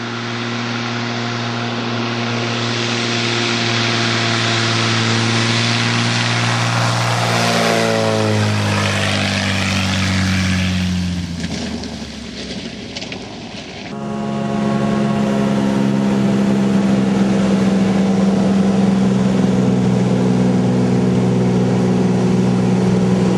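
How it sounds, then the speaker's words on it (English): A steady engine drone hums from afar over Alaska's remote river country, fading and shifting pitch midway before returning strong and continuous, with no talking. "we then heard an engine again in the distance"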